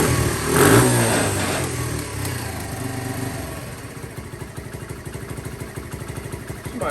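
A 2015 Lifan Pony 100cc motorcycle engine revs up once, then settles into a steady, close putter with a distinct rapid pulsing idle.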